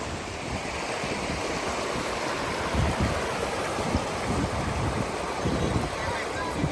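Cold snowmelt mountain stream in the mountains near Marrakesh, Morocco, a steady broadband rush of flowing water with wind buffeting the microphone, continuous and close.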